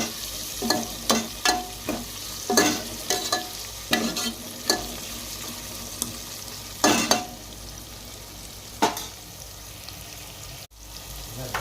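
A spoon stirs chicken pulao with turmeric in a pan, giving a dozen or so scraping, clattering strokes at an irregular pace over a low sizzle. Each stroke is close and fairly loud, with no voices.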